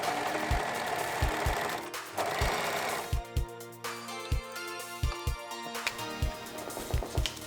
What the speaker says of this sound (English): you can use a zigzag stitch if you don't have an overlocker.